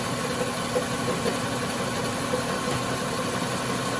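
A 2014 Chrysler Town and Country engine idles with the AC compressor engaged, a steady droning hum with a faint continuous whine and slight rattle, close and unchanging throughout.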